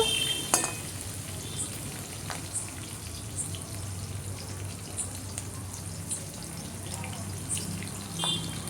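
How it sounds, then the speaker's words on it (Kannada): Green chillies and cumin fry in hot oil for sabudana chivda, a steady close sizzle with scattered sharp pops and crackles throughout. "ಮೆಣಸಿನಕಾಯಿ ಹಾಕ್ಕೊಂಡು ಚೆನ್ನಾಗಿ ಎಣ್ಣೆನಲ್ಲಿ ಅವನು ಫ್ರೈ ಮಾಡ್ಕೋಬೇಕು."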